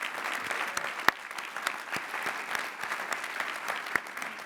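Sustained applause from a large crowd honoring master's degree recipients at a Lehigh University commencement, with dense even clapping and a few louder individual claps standing out.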